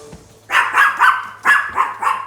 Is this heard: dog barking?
yes